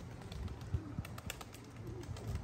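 Racing pigeons released from a loft on the opening day of a one-loft race, with a soft, continuous mix of wingbeats and low cooing close by, and no talking.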